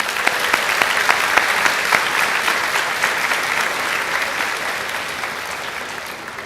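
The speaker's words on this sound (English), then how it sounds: "I now give a big round of applause for our parents and guardians." A high school graduation crowd gives a long round of applause for parents and guardians, loud and dense clapping that tapers slightly toward the end.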